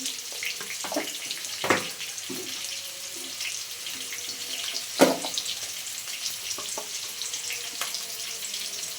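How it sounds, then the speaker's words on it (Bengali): Potatoes seasoned with salt and turmeric fry in a pan with a steady, close sizzling hiss, broken by a few sharp pops and crackles. "তো আলুটা সুন্দর করে লাল লাল করে ভেজে নেবো বন্ধুরা"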